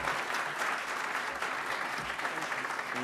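An audience gives a big round of applause for Congressman Yarmouth at an education event launching Digital Promise, a steady wash of many hands clapping at moderate volume from start to finish.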